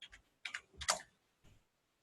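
Short bursts of keyboard typing, a few quick clusters of key clicks separated by brief pauses, close and fairly quiet.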